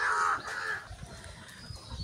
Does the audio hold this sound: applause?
no